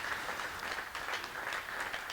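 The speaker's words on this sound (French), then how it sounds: "Sous les applaudissements du public de Saint-Lô" A bowling crowd in Saint-Lô applauds a strike in the tenth frame at a Pro-Motion Tour final, producing a steady, dense burst of clapping that fills the space without any voices.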